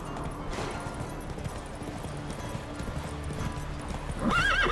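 The horse Roach in The Witcher 3 gallops with steady, close hoofbeats, then gives a loud neigh at the end.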